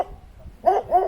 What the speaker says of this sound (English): that was the dog barking